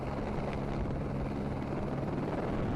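Helicopter hovering over a gravel rally stage in Cyprus, a steady rotor and engine roar heard distantly, constant and uniform with a wind-like wash and no other sounds.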